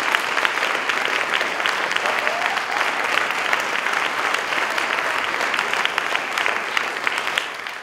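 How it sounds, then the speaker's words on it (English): An audience at a lecture-style gathering breaks into a steady, dense round of applause that fills the whole stretch at an even loudness, with no voices standing out. "Come on, give Dr. Watkins a round of applause."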